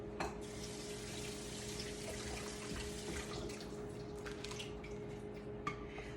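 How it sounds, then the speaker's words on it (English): Water runs steadily from a kitchen tap as vegetables are rinsed in the sink, a soft continuous splashing with a few faint clinks near the end, fairly quiet and with no talking. "I rinsed them off real quick"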